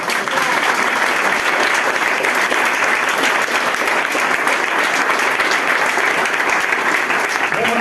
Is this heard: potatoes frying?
no